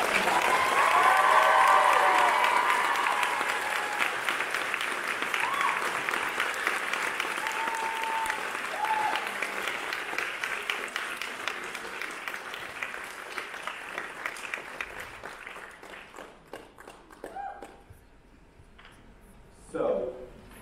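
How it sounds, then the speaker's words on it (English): A bookstore audience applauds a special guest at a Rick Riordan book tour event in San Diego, sustained clapping filling the room for around fifteen seconds before tapering off, with a last short burst near the end. "Let's give him a round of applause and ask him to come up and talk about it."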